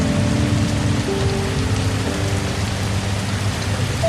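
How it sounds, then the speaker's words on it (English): Steady rain pours onto a Costa Rican rainforest treehouse, a dense, even hiss of drops on the surfaces with a low rumbling undertone, continuous and close throughout. "The rain continues to fall, softly now,"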